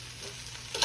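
A Reuben sandwich fries in a pan, giving a short, quiet, steady sizzle with a faint patter that swells slightly at the end.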